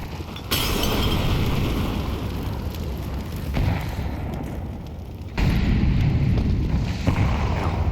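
Grenades explode in a Counter-Strike match at an ESL Impact group-stage game. Two heavy, close booms, one early and one later, each leave a long rumbling roar and scattered gunfire between them.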